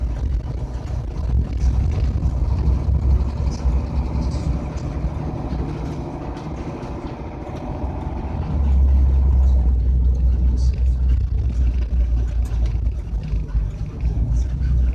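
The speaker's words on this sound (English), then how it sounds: "the diesel engine, it's up front in the, like a normal RV" A front-mounted diesel engine in an RV motorhome drones low and steady while driving through Dover, with road rumble and wind noise; the rumble deepens and grows louder about halfway through.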